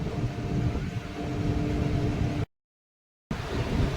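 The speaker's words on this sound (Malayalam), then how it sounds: "ഒരു ഗുഡ്സ് ട്രെയിന് വരുന്നുണ്ട് കൽക്കരി ആയിരിക്കും" A goods train, probably hauling coal, rumbles steadily near a railway line in Gujarat. The broadband roar is continuous, broken once by a brief dropout to silence.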